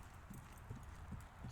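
A horse's hooves clip-clop in an uneven rhythm of soft thuds, faint and somewhat distant, with no voices over them.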